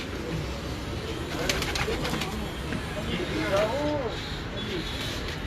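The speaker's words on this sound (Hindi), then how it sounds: "ये जी माशाल्लाह उस्ताद मियां इमरान साहब के वो कबूतर हैं" Champion pigeons cooing on a rooftop, soft repeated coos rising from a busy, noisy outdoor background while someone talks nearby.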